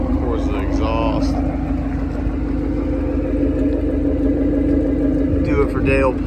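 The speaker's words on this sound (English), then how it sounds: "Corsa exhaust." 2012 Ford Mustang GT V8 fitted with a Corsa exhaust idling nearby, a steady deep rumble running throughout while someone talks over it.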